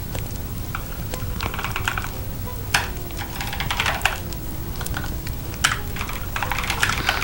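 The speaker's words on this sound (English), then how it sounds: "I was typing it wrong, that's why" Rapid typing on a computer keyboard during game programming, with steady clicking broken by a few louder keystrokes, close and alone without talk.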